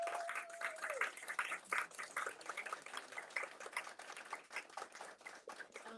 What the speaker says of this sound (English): Let's give a round of applause to Alonzo.